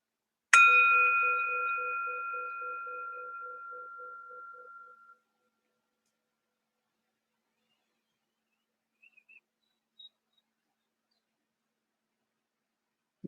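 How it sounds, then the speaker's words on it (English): A meditation bell is struck once and rings out clearly, its bright tone fading slowly over about four seconds, followed by near silence with a few faint small sounds. "let's start a bell for taking us into the movement practice."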